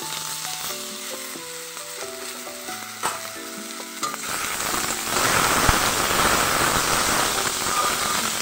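Potatoes tipped into a pan of frying hot chillies and five-spice for a simple white potato dish. It starts with a quieter stretch of light sizzling and a couple of knocks, then a loud, dense, steady sizzle fills the rest.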